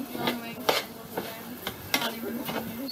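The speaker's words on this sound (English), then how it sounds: "help to roast the rice, add flavor to the rice" Rice stirred and roasting in a buttered pan while cooking Asian chicken and rice at home, with a soft steady sizzle broken by several distinct scraping stirs of a utensil against the pan.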